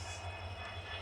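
A train passes, giving a steady, heavy low rumble with a faint metallic hiss above it. It sounds continuous and fairly close, with no voices.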